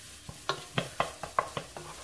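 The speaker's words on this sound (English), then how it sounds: "Stir that around." A spoon stirs ground cumin, salt and black pepper into red lentil soup in a pot, making about eight distinct close scraping clinks in a steady rhythm over a faint cooking hiss.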